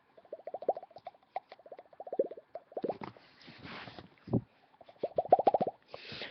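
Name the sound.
mouth imitation of a bubble sound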